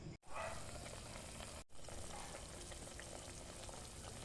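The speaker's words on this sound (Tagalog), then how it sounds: "Lang po natin pakuluin nang maluto po yung ating gulay." A pot of mixed vegetables with chicken boils steadily, giving a continuous bubbling, sizzling wash throughout with one brief dropout near the start; no one speaks.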